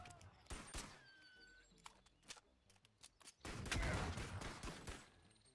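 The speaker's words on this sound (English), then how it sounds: "There's also things that I hate, like this guy, Void Turret. It'll shoot fireballs at you." In the VR game BONELAB, a Void Turret shoots fireballs, giving quiet scattered sharp bursts followed by a denser rumbling volley.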